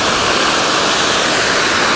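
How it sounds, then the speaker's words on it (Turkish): Göksu Waterfall in Hadim, Konya roars as a dense, steady rush of falling water, loud and close, with no break for the whole stretch and no voices over it. "Şelale sesinden beni duymuyor olabilirsiniz."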